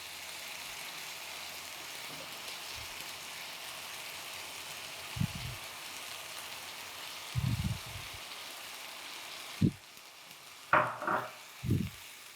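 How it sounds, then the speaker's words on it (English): Beef Mongolian frying in a pan with a mixed sauce, giving a steady soft sizzle throughout, broken by a few short clanks and scrapes of stirring near the end, with no talking. "And we can stir fry that together."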